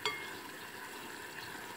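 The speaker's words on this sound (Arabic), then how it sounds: "نخلط مليح ونخلي لو ميلونج يختهر" Caramelized onion tfaya mixture being stirred in a pan, a steady soft sizzle and scraping hiss that stays even throughout, with no voices.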